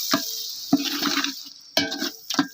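Water from a jug is poured over mutton masala cooking in a pot, heard as a few sloshing splashes with small metallic clinks, close and moderately loud, with no voices.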